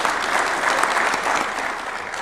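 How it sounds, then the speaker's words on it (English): An audience at a State House diplomatic briefing in Nairobi gives sustained, dense applause, steady and loud throughout with no talk over it. "to give a warm round of applause for His Excellency the President"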